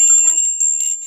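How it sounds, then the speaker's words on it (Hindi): A brass bell finished with copper-coloured polish rings out with a bright, sustained metallic tone, struck a few times in quick succession with the ringing overlapping; near and fairly loud, with no voices over it. "ये तांबा वाले ना पॉलिश है पर पीतल के घंटी है"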